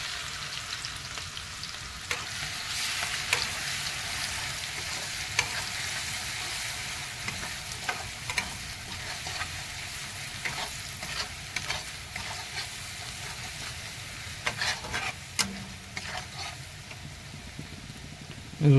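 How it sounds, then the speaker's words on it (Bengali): Garlic fries in hot oil in a heated wok, a continuous soft sizzle with scraping stirs and clinks of a spatula at irregular intervals, steady and close. "রসুনটাকে একটু পাকিয়ে নেওয়া হচ্ছে"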